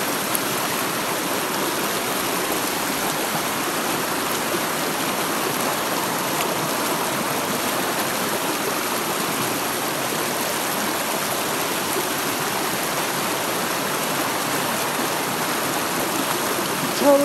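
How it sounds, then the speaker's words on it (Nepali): A waterfall flows into a river, its dense, unbroken rush of water heard up close and steady for the whole stretch. Nobody talks. "झरनाको पानी"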